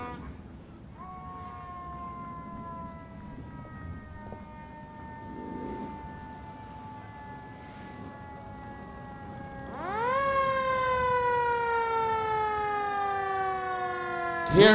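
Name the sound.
fire department vehicle siren in parade escort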